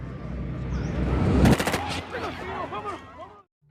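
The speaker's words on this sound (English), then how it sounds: "the police shot him dead" A sharp gunshot bursts out about halfway through as police shoot a man dead in a film scene, loud and close, set against a busy movie soundtrack with a voice talking over it.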